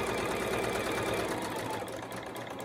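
A sewing machine hums steadily and close up while sewing a scrunchie, one continuous run with no talk over it.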